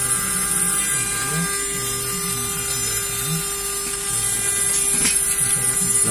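A CNC router cuts aluminium under water coolant, giving a steady, close mechanical whine with a constant high tone and a low rhythmic churning that continues throughout.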